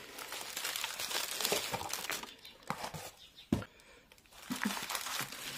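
Paper wrap crinkles and rustles as a parcel of trial products is unwrapped, with irregular crackling bursts, one sharp snap and brief quiet gaps, close up and moderately faint.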